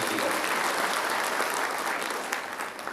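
A crowd at a public event claps to welcome MP Shyamkumar Barve, a dense, steady burst of applause throughout that eases slightly toward the end.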